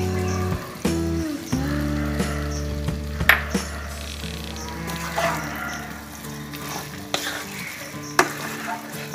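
Taro stems frying with roasted flour and grated coconut, sizzling steadily in a pan, with a spoon stirring and scraping in several sharp, close knocks.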